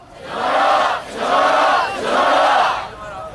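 Crowd chanting a slogan in unison at a student-led rally on Gwanghwamun Square in Seoul, demanding a special law; three loud, rhythmic shouted phrases of about a second each, close and full.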